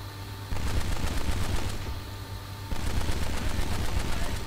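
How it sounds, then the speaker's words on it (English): Sustained bursts of blind gunfire in the game Kane and Lynch: Dead Men, loud, dense automatic rattling that runs continuously with a brief dip midway and no talk. "Blind firing."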